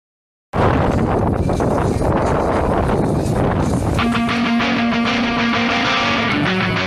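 Wind and surf roar at a kitesurfing spot in Sardinia, a loud steady broadband rush of gusts and breaking waves throughout, later joined by a sustained tonal hum.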